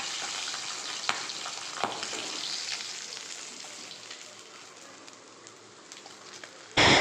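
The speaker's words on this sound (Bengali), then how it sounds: "আর বাকি মাছগুলো কিন্তু এইভাবে আমি ভেজে নেবো" Pabda fish frying in oil in a kadai, a steady dense sizzle and crackle with occasional sharper pops, fairly close and continuous, ending with a brief loud burst.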